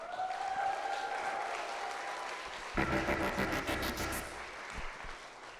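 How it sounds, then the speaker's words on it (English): Crowd applause at an evening theme park reveal event for the Tormenta Rampaging Run ride, a dense burst of clapping that swells suddenly and holds for a few seconds before thinning out. "Another round of applause for him"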